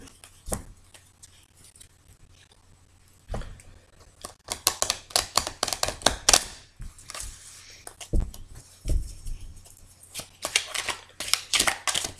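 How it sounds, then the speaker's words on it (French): A deck of cards for a card reading is shuffled close up in a quiet room, with repeated soft riffling and slapping bursts that grow denser toward the end. "je vais encore mélanger ce jeu"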